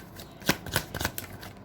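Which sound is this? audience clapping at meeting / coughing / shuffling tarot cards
shuffling tarot cards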